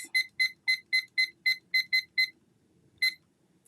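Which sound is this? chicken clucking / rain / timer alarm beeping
timer alarm beeping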